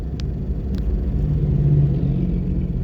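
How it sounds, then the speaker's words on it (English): A truck passes on a Jamaican coastal highway under construction, giving a steady low rumble of engine and tyres that swells slightly as it goes by, heard close throughout. "this truck is passing us now"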